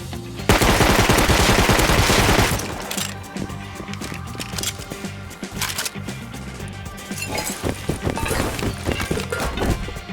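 Gunfire in the survival game Rust near an armored island base, a dense burst of rapid automatic shots followed by scattered thuds, impacts and further shots, loud and close.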